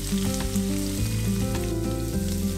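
Chicken breast sears in a pan alongside eggplant, left mostly undisturbed, producing a continuous, even frying hiss with a low tonal backing throughout.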